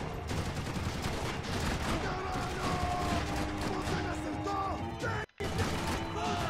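Dense, continuous gunfire from the action video game Max Payne 3, loud and sustained, with a brief near-silent cut near the end before the shooting resumes.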